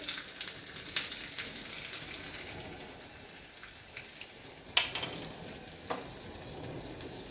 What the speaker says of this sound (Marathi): आता आपण अर्धा चमचा मोहरी टाकूया, अर्धा चमचा जिरे टाकूया, लसूण टाकूया